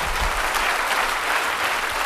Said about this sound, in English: give him a big, big, big hand clap.